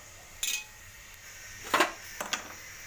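Okra stir-frying in a pan in a home kitchen, heard as a few quiet metallic clinks and scrapes of a utensil against the pan, spaced out over a faint background hiss.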